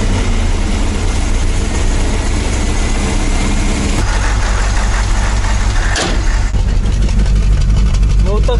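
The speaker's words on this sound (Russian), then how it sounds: "То есть маленько так пыхтит, да, машинка из выхлопа, из выпуска, точнее." A BMW 7 Series E66 engine idles loudly and close on new spark plugs with a rough, slightly uneven rumble and puffing exhaust, steady throughout, with a brief knock partway through.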